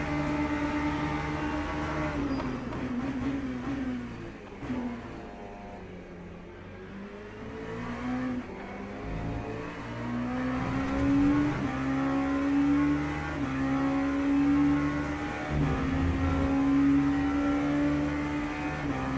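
Race car engines in Le Mans Ultimate during an ELMS online championship round at Interlagos, with a steady loud drone of several cars whose pitch rises and falls through gear changes and acceleration across the whole stretch.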